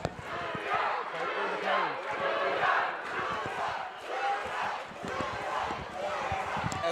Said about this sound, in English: As the crowd starts chanting for Julia.